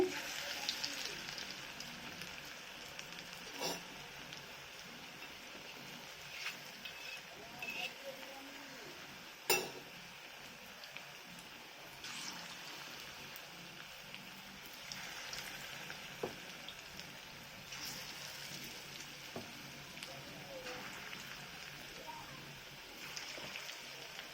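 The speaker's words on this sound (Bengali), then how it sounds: "তেলটা আমার তেতে গেছে। বড়াগুলো একটা একটা করে দিয়ে দেবো।" Rice flour and yogurt fritters (bora) are frying in hot oil over a lowered flame. A continuous soft sizzle and bubbling runs throughout, with an occasional clink of a utensil against the pan.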